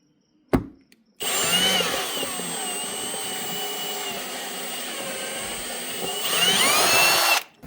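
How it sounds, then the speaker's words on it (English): A power drill whirs steadily for several seconds into the body of a Mazda RX-7, high-pitched and close, after a sharp knock, with the motor surging louder near the end. "It's pretty terrifying drilling into this"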